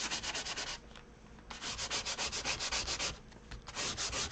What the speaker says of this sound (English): just sanding this cardboard box a little bit